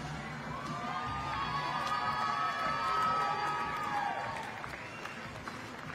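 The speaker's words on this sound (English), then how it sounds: "Nice big round of applause." A crowd at an awards ceremony claps and cheers with some high shouts mixed in, a steady wash of applause that swells in the middle and eases toward the end.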